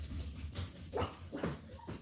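Dogs barking and whimpering outside as a car pulls into the driveway, a few short yips and barks rising over a steady low background hum, moderately distant.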